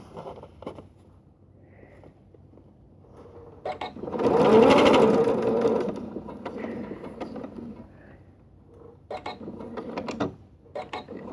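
A sewing machine stitches quilted fabric squares for a tote bag, running in short bursts with a louder, steady whir in the middle, and quiet pauses and handling noises between runs.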